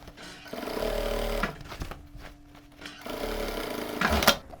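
A sewing machine topstitches a narrow seam near the edge of denim jeans in two bursts of steady mechanical whirring, separated by a short pause, close and moderately loud.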